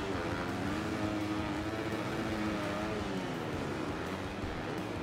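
Dirt bike drifting in the video game Monster Energy Supercross 6, a continuous loud engine roar with a slightly wavering pitch that holds steady throughout, with no talk.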